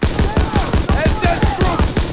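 Rapid automatic gunfire from a World War II battle in Call of Duty WW2, a steady stream of close, loud shots under shouted voices.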